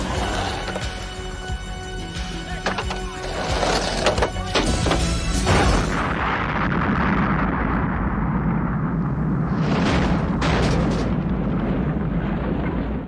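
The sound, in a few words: propane tank explosion blowing up a warehouse in the film Gleaming the Cube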